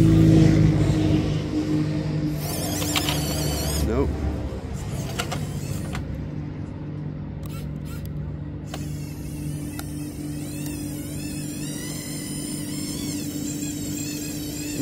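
A small FMS 1/12 scale Toyota RC car runs its electric motor with a steady close hum and whine, some brief rattling bursts early on, continuing alone without talk.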